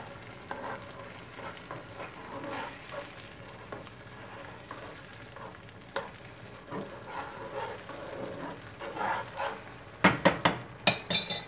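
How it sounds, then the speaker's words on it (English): A seafood boil sauce simmers in a pot with a soft, steady bubbling and sizzling. Scattered clinks of utensils come through, and sharper clatters and knocks cluster near the end. "Our sauce is simmering."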